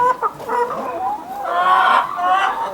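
A flock of chickens clucks close by, with overlapping, continuous squawks and calls that rise in loudness toward the middle.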